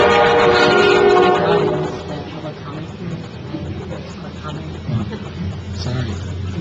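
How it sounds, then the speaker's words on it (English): Toy train whistle blowing loudly from under a Christmas tree at a township meeting, a steady sustained tone for about two seconds, then fading into murmuring room noise and voices. "Here's the celebratory whistle from the tree."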